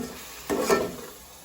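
A spoon stirs tomatoes, shallots and curry leaves softening in a pan for chicken biryani, one brief scraping stir over a low, close sizzle.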